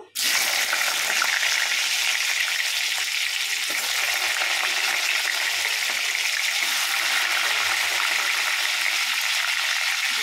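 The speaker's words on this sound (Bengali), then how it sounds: "তেলের মধ্যে পেঁয়াজ দিয়ে দেব" Onions hit hot oil with a loud burst, then a dense, continuous sizzle and crackle that holds steady and close throughout without any voices.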